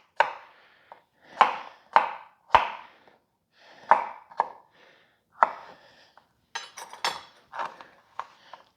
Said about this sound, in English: Again, I'm just dicing it up.